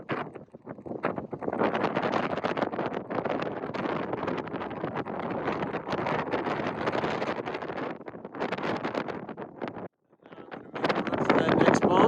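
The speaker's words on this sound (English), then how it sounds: "it is extremely windy here at the top of Mosquito Peak" Strong gusting wind at the 13,700-foot summit of Mosquito Peak in Colorado roars and buffets the microphone loudly and continuously, with a brief lull near the end before the blast returns.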